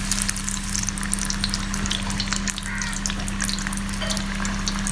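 Fish pieces, Kotthangudi-style fried fish, sizzle and crackle steadily in hot oil at close range, a dense continuous frying hiss with small pops and no voices.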